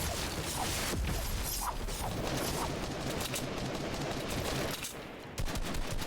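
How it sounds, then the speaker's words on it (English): Rapid gunfire from a Fortnite battle royale match around Holly Hedges, with dense, continuous rattling shots and clatter layered under game sounds throughout, briefly dipping near the end. "as you can hear, the gunshots are flying everywhere"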